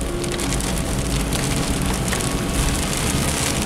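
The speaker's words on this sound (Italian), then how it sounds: "Questa sì che è pioggia" A heavy downpour hammers on a moving car during a drive, a loud dense steady roar of rain drumming on the roof and windshield with no let-up.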